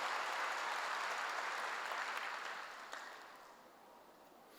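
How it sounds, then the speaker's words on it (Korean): A church congregation applauds together in a dense, steady burst of clapping that holds strong for a few seconds, then gradually thins and fades toward the end. "박수를 하세요."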